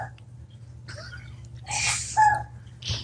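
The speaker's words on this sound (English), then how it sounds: "The prisoner sneezes." A person sneezes close by, one sharp burst over a low steady hum, with softer breathy and snorting sounds around it.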